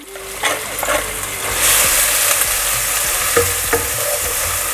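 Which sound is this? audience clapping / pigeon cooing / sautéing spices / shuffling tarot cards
sautéing spices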